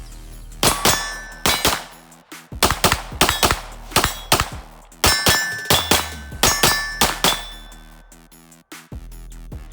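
A Springfield Prodigy 1911 handgun empties a magazine: about a dozen and a half sharp, loud, close shots in quick irregular strings, with metallic ringing and brief pauses between groups.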